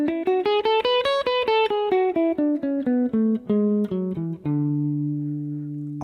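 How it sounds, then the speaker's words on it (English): A guitar plays a D Lydian scale over two octaves, rising then falling in even, evenly spaced single notes, and ends on a long sustained low D. "A major scale through 2 octaves, starting and ending on D"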